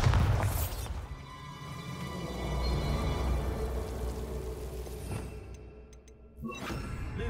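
A Bombarda blasting spell going off in Hogwarts Legacy, a deep booming blast with a whooshing rumble that swells and fades, followed by a second sharper burst near the end.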